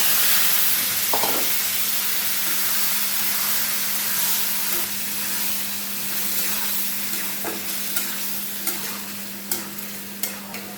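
Pumpkin frying in a pan with fried onion and garlic gives a loud, continuous sizzle. Scraping stirs and light utensil ticks sharpen toward the end.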